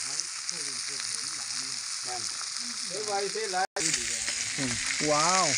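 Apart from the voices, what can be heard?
frying in a new pan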